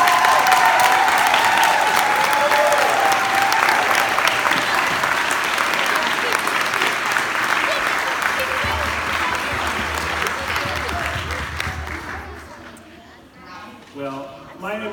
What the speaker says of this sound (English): How about another round of applause for this great crowd?